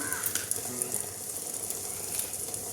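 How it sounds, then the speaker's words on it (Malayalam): Mustard seeds crackle in hot oil in a pan while cooking a Kerala-style prawn theeyal, giving faint, scattered pops and ticks over a steady low sizzle throughout. "അപ്പോൾ കടുക് കുറച്ചൊന്ന് പൊട്ടട്ടെ"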